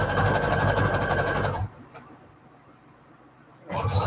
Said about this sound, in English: I am going to add a straight stitch. And I'm using the longest setting on the straight stitch.